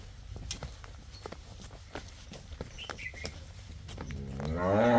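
A dairy cow in a farm shed lets out a single loud, drawn-out moo near the end, after shuffling and clattering hoof steps and faint bird chirps in the background.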